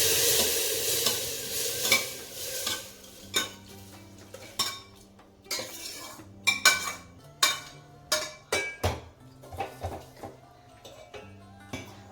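Tempering for Andhra-style pappu sizzles and spits in a hot pan while a spoon stirs and knocks against the metal, giving repeated sharp clinks and scrapes over a steady frying hiss, close up with no talking.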